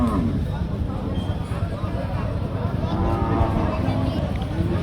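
A busy cattle market in Chaugachha, Jessore, Bangladesh: cows low now and then amid a dense, steady crowd babble and general outdoor commotion.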